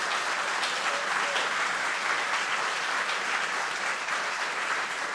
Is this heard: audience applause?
yes